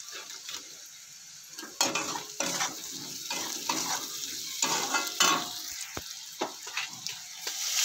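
Spices with garam masala frying in a pan, a steady sizzle broken by repeated scraping and clinking of a spoon stirring against the metal.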